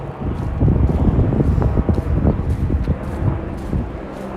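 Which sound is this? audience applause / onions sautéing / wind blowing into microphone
wind blowing into microphone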